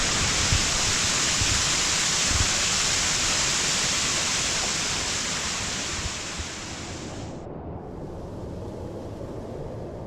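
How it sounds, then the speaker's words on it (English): A massive waterfall thunders close by a campsite overlook, a loud, steady broadband roar that holds for most of the stretch before dropping to a softer, more distant rush near the end. "having a site with overlook of this massive falls and the area all to ourselves is kind of blowing us away"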